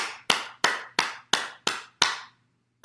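Seven sharp hand claps at an even, steady rhythm during a morning bouncing exercise session, each crisp and close, with a low hum underneath and a pause after the last.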